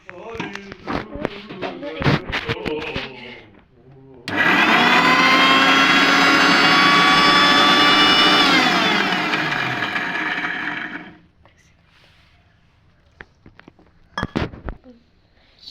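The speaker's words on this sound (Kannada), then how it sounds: "ಇದನ್ನು ಮಿಕ್ಸಿ ಮಾಡಬೇಕು" A kitchen mixer grinder blends banana payasam ingredients with a loud, steady motor whine lasting several seconds, framed by clattering jar and lid handling before and after.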